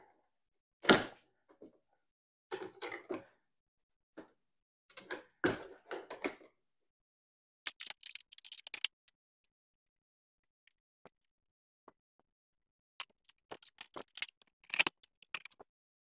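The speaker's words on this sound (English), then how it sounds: "It's these plastic clips. They just unclip and this whole windscreen comes off." Plastic clips being unclipped to remove the windscreen from a Club Car DS golf cart, a series of sharp close snaps and clicks in irregular bursts separated by silence, no talking.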